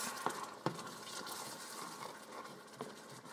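A spoon stirs a whole can of coconut milk through a hot pan to deglaze it, giving a steady soft liquid swirl with faint sizzling and a few sharp scrapes and clinks against the pan bottom.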